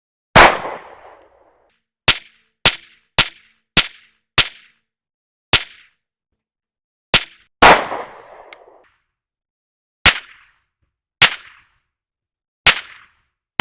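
PSA Dagger Glock-clone pistol firing on a range: about a dozen sharp, loud, close gunshots at irregular intervals, each followed by a brief decay, with silence between.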